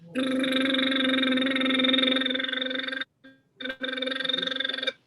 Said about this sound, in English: exercise that's called lip trills.